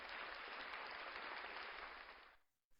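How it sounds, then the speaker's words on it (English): A round of applause from a crowd, dense sustained clapping at moderate level for about two seconds before fading out, followed by a brief thump. "Round of applause."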